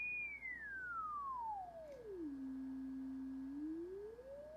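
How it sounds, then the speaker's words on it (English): A pure sine tone from a loudspeaker sweeps smoothly downward in pitch, holds steady at a low note for about a second, then begins gliding back up; clean, faint and alone. "when we increase the amplitude, you can see the signal showing up on the oscilloscope, and that's what's creating the sound on the speaker"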